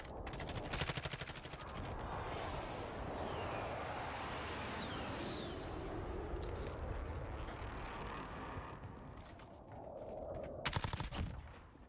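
Rapid bursts of automatic gunfire from a Warzone squads match, dense and continuous with sharp louder volleys at the start and near the end, mixed with in-game ambience.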